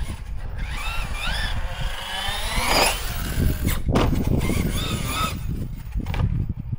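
A Hobao MTX 8S RC car runs at full throttle, its motor whining up and down in rising and falling sweeps, loud and close throughout with a sharp peak midway.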